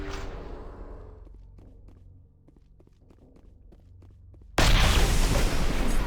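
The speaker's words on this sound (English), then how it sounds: "that explosion kind of scared me a little bit" A quiet stretch with faint footsteps gives way to a sudden, loud explosion in the video game Mass Effect. The blast hits abruptly near the end and its roar stays heavy and sustained to the close.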